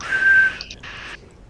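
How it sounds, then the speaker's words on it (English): A modern-style whistle sounds as one clear sustained tone for about half a second, followed by a couple of short, quieter chirps and a softer hissing stretch, heard alone without speech. "what sounds like a whistle,"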